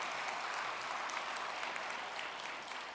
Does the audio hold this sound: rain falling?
no